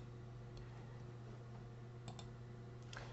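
A few faint, sharp computer mouse clicks land on the export button in Character Creator software, heard singly and in a quick pair over a steady low electrical hum.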